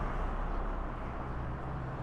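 Heavy trucks roll past on a road beside Aiko-Ishida Station, a steady, close, broadband rumble of traffic with no pauses and no voices.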